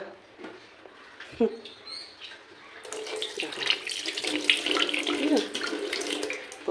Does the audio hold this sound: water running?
yes